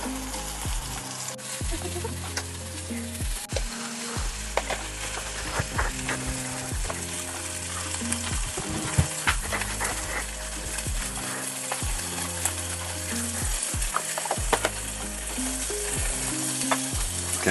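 Vegetarian sausage-substitute patties frying in a pan, giving a steady close sizzle with crackles and occasional stirring or scraping clatter throughout, and no talking.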